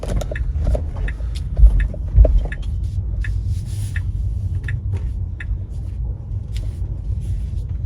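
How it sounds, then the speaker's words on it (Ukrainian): A 2013 Ford Mondeo rolls out of a residential yard, its low engine rumble steady and close throughout, with a couple of brief thumps near the start and faint ticks and rattles above. "Виїжджаємо з двору"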